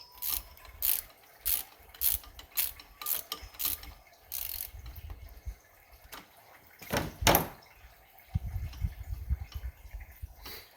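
Ratchet clicking in short bursts while loosening a stubborn bolt on the water pump housing of a 1995 Ford F Superduty 7.3 Powerstroke diesel, close and distinct, with a few clanks of tools between strokes.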